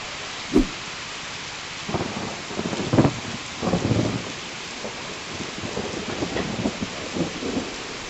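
Steady rain with rumbling thunder during a storm in Lower Mustang, Nepal, a sharp crack early on followed by several rolling peals over a constant hiss of rainfall.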